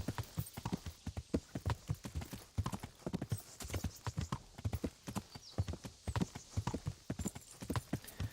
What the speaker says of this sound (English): Well, galloping down the hill, that's definitely risky business.